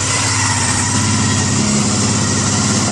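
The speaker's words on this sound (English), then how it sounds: "Engine is very, very quiet." A Honda CBR250 motorcycle engine idles steadily and evenly for the full stretch, a close, constant hum with no revving and no voices.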